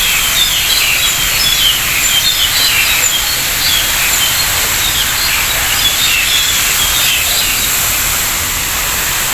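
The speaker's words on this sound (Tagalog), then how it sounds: "nakaka-enjoy po pakinggan ang huni ng ibon" Birds chirp and twitter continuously among the trees of Kowloon Park in Tsim Sha Tsui, Hong Kong, with many overlapping calls above a steady wash of city and insect noise.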